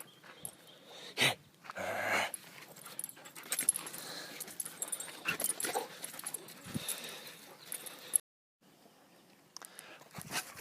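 A puppy whimpers and pants in soft, uneven bursts, with small jangling and rustling noises close by and a brief silent gap near the end.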